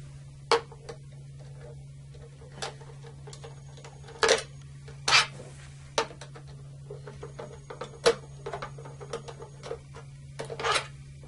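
Screws come out of the cover of a 4-pole circuit breaker, heard as scattered sharp clicks and metallic taps at irregular intervals over a steady low electrical hum, close and quiet with no talk.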